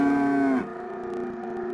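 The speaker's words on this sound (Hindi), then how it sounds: "ये आवाज सुनते ही बैल जोर जोर से रंभाने लगे।" Bulls lowing loudly in a dark, rainy forest night for a horror story, one long, steady, tonal moo that drops to a lower pitch partway through and then holds.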